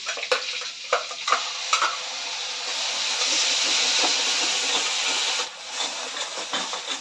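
Onions tipped into hot oil seasoned with cumin seeds and a dried red chili, sizzling loudly and steadily with scraping stirs and bursts of frying hiss, while preparing prawn malai curry.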